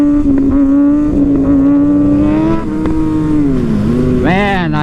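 A Suzuki Gixxer sport motorcycle accelerates hard through the gears, its loud droning engine note climbing in pitch, dipping at each shift, and rising again in a strong rev near the end.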